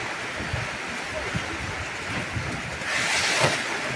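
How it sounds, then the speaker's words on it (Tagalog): Heavy rain pours in a dense, continuous roar, swelling louder and brighter toward the end. "Lakas na ulan."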